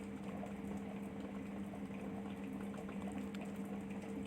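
Coca-Cola heated on a wood-fired clay stove, a low steady bubbling and simmering with a faint hum underneath, quiet and continuous with nobody speaking.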